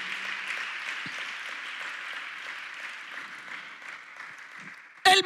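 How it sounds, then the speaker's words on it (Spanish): Applause from a church congregation during a Spanish-language youth teaching, a soft, steady wash of clapping at a moderate distance that ends with a brief louder burst. "Dale un aplauso a la gloria de Dios."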